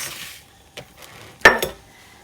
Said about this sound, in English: we're going to whisk together the graham cracker crumbs